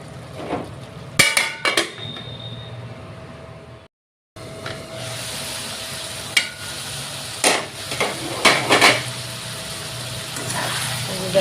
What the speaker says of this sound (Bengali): আর অল্প টমেটো দিয়ে ভালো করে কষিয়ে নিব।